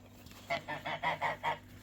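Domestic geese on a small poultry farm give a run of about six loud, nasal honks in quick succession, close by, with no talk over them.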